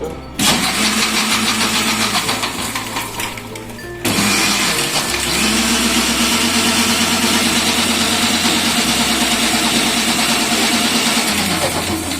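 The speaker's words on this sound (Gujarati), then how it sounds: "આપણે મિક્સરમાં થોડું ચલાવી લઈશું।" A kitchen mixer grinder whirs loudly as it blends guava juice with ice cubes, running in a steady roar that stops briefly, restarts and keeps grinding with a rhythmic churning hum.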